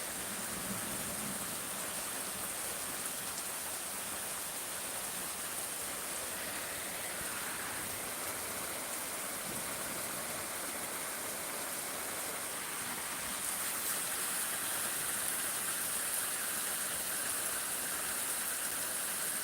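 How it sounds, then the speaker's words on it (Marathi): Heavy monsoon rain falls on farmland as a constant, dense wash of hissing noise that swells slightly louder toward the end, with no other distinct sounds. "पावसाचा जोर वाढलेला आहे"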